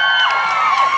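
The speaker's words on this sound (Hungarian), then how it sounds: "Tapsoljuk meg még egyszer." Concert audience at a live show cheering and shouting in a brief, loud, dense burst of crowd noise.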